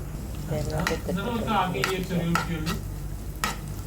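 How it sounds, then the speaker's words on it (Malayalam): Rice stirred in ghee for rice payasam makes a soft frying sizzle with irregular spoon scrapes and clinks against the pan, heard beneath a person talking throughout. "നല്ല ബ്രൗൺ നിറമാവുന്നവരെ ഇളക്കി കൊടുക്കുക"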